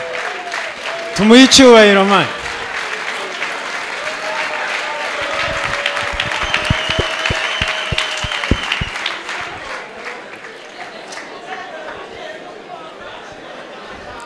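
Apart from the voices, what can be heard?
audience applause, standing ovation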